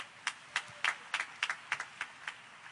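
Church congregation at a preaching service clapping in praise, about ten distinct rhythmic claps at a steady pace, faint and somewhat distant.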